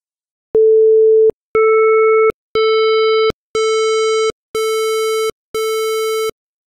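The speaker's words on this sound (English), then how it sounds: "let's compare a square wave as we increase the number of components" Six steady buzzing tones, each about a second long with short gaps, starting as a pure hum and growing brighter and harsher with every step, like a square wave.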